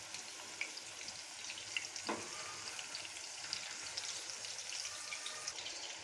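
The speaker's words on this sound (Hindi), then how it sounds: "हमने ज़्यादा नहीं इन्हें फ्राई करना, बस हल्का सा गोल्डन सा कलर बस देना है हमने इन्हें।" Meatball koftas for kofta pulao frying gently in oil, a steady close sizzle with small crackles and pops, and one brief soft stir or turn partway through.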